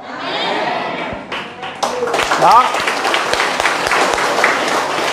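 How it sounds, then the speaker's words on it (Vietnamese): A church congregation claps during a sermon, the applause starting sparse and then swelling into a loud, dense burst, with a voice speaking and some laughter mixed in. "Tôi hy vọng rằng cái vỗ tay này là thật đấy"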